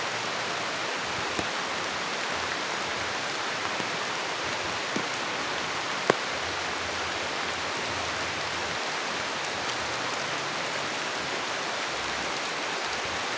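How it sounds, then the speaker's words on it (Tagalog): Rain falling outdoors during a walk, a dense, steady hiss of drops on surfaces close around, constant throughout with a few sharper taps and no talk. "I like it when it's raining"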